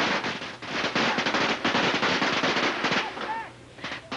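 Dense, rapid crackling bangs from fireworks and firecrackers at the Chinese New Year festival in New York's Chinatown, loud and continuous with a crowd noise underneath and a brief high whistle near the end.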